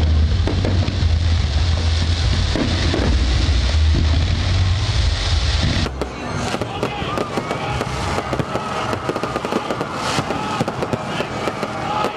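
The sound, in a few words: fireworks display for Independence Day celebration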